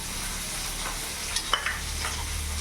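Fish sizzle steadily in hot oil in a pan for a Bengali khoira fish curry, a constant close frying hiss broken by a few quick clinks and scrapes as the pieces are flipped, with no talking.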